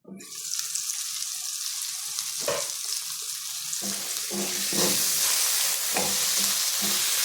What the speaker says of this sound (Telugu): ఇంకా కొద్దిసేపు మటన్ ఇద్దాము కొంచెం దాంట్లో ఫ్రై అయితే మగ్గితే బాగుంటుంది